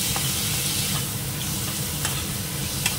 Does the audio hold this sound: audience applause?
no